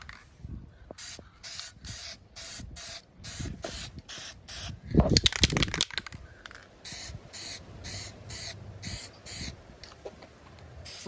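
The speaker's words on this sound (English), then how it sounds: "So yeah, I'm gonna get started with painting" Short repeated bursts of aerosol spray paint Duplicolor trim and bumper coating onto trim from a 7th gen Toyota Celica, rhythmic hissing passes with a louder, longer blast midway, close up and without talk.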